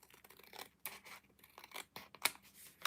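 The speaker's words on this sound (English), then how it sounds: "These scissors are easier to trim with than the Precision." Small craft scissors snip through paper in quick, close cuts, a handful of crisp crunching snips with short pauses between them, quiet and intimate with no voices.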